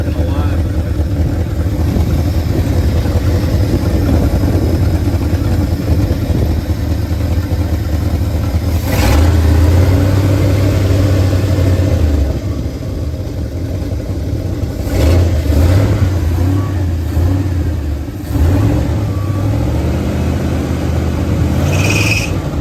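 A carbureted 1971 Ford F250 engine, restarted after sitting nine years, runs at a steady idle with a low, continuous rumble and occasional small rises in revs, while voices talk over it.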